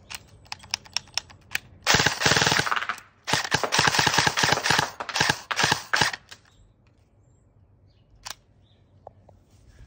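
Brand-new Arcturus X C.A.T. airsoft gun firing on full auto in two loud rapid bursts, the first about a second long and the second about three seconds, with scattered single clicks before and after.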